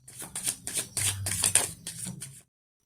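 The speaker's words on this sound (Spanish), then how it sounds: "ahora vamos a barajar con el tarot del legado de lo divino las cartas" Tarot cards being shuffled close by: a quick run of crisp riffling bursts that goes on for about two seconds, then stops.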